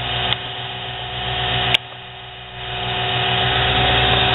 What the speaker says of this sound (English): now the motor is turning this way, the pulley.